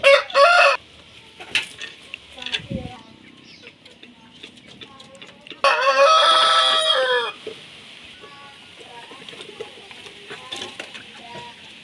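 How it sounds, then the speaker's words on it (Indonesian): Chickens at feeding time cluck softly and steadily nearby, while a rooster crows loudly twice, at the start and again midway through. "Dikasih pakan ke ayam-ayam ini."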